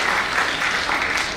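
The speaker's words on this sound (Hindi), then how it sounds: "इसके लिए जोरदार तालियां" Steady, dense applause from an audience at a motivational talk honoring a student admitted to IIT Delhi, sustained and even throughout with no pauses.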